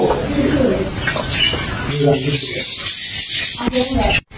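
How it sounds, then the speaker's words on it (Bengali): Australian doves coo softly among chirping birds in a park, with people talking nearby and a steady high buzz throughout. "এই পাশে রয়েছে অস্ট্রেলিয়া ঘুঘু।"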